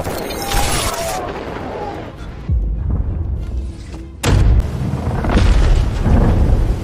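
Deep booms of heavy coastal battery cannon fire, two distinct blasts thudding over a dense, rumbling din of noise.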